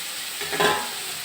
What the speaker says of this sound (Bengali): মশলা কষিয়ে দিয়ে দিব মিষ্টি কুমড়া